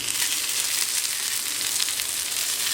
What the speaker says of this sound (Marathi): आता आपण हे कापे तळून घ्यायचे